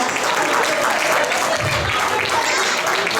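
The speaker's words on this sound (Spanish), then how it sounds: "un aplauso para estos jóvenes talentos venezolanos" At an intercultural festival, an audience gives young Venezuelan performers a loud, dense round of applause, the clapping continuous and full for the whole stretch with a brief low rumble in the middle.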